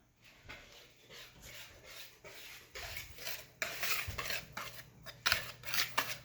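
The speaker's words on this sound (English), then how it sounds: "I want to whisk this together." A whisk scrapes rhythmically against a bowl as muffin batter is mixed, in quiet, repeated brushing strokes that grow louder and brisker toward the end.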